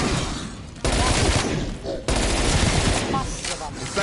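MP5 submachine gun fire in the Die Maschine zombies mode of a video game, dense rapid bursts that start and stop abruptly, loud and close, with a voice talking underneath.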